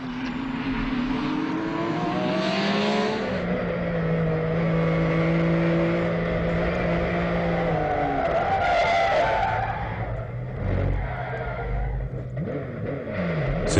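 Race cars from the Roscar RG512 series battle on a circuit as one driver skids hard, tyres screeching and wearing out; continuous loud engine roar with sustained squealing tones and shifting pitch.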